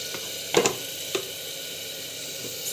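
Mustard seeds, cumin and curry leaves hit hot oil with a few sharp crackling bursts early on, then settle into a low, steady sizzle close by.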